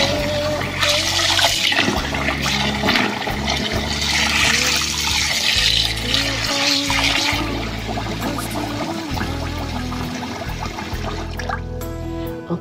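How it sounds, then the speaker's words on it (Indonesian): Four cups of rice being covered with water for soaking: water pours and splashes loudly into the container at close range, then settles into a lighter trickle. "Mula-mula kita rendam air dulu beras ni supaya dia lembut sedikit."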